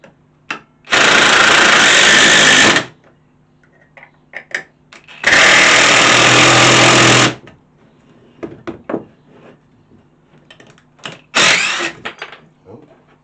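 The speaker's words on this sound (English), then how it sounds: "if we place that in position, like so, we can now drive them screws" A power driver sinks screws into a fairy light fitting in two loud, sustained whirring bursts of about two seconds each, then a shorter third burst, with small knocks and handling clatter in between.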